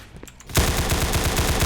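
Rapid automatic gunfire in a Roblox Counter-Strike game, a loud steady stream of evenly spaced shots that starts abruptly after a quiet moment and keeps going.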